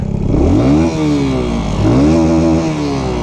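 A motorcycle with an aftermarket exhaust revs twice in quick succession close by, each throttle blip rising and falling in pitch over a steady idle, with no talking.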